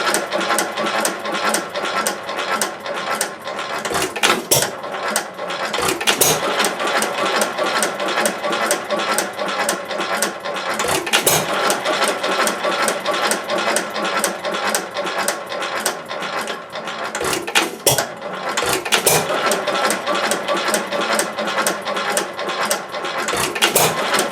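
A Stover stationary engine runs close by at a steady chugging idle, its regular firing beats continuous as the adjustable governor slows it down.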